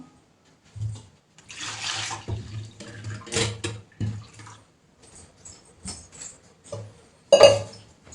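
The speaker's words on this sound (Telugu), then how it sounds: "దీంట్లోకి మనకి ఎంత వాటర్ కావాలో అంతైతే పోసేసుకుందాం" Water splashes and trickles into a metal pot, with light clinks of utensils and intermittent pouring sounds nearby.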